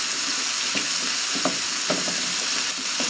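A bacon and cheese dip with cream cheese and cheddar bubbling in a pan over medium-low heat, steady soft sizzle with scattered scraping stir strokes, close and continuous, no voices.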